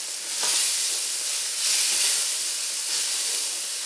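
Half and half simmering at a rolling boil in a pan for a sauce, a steady bright hiss and sizzle that swells and eases in slow waves, close and moderately loud with no talking.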